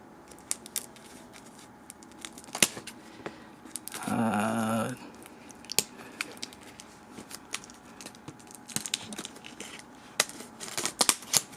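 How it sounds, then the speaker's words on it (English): Scattered small snips and crinkles of scissors cutting plastic shrink wrap off a trading card box, with a short burst of louder rustling partway through, close and fairly quiet. "So let's get these scissors here. We'll cut this plastic off."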